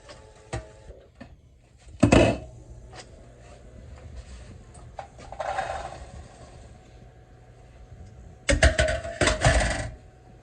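Cranberries tipped into a pan, a few scattered light clatters followed by two louder rattling pours of the berries hitting the metal, close and alone.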